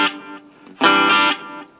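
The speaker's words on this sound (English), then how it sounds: "Gives you almost like a reverb-ish effect" Electric guitar played through a Blackstar Fly 3 mini amp with delay, a short phrase followed by a louder strummed chord whose sustained ringing carries faint echoing repeats as it decays.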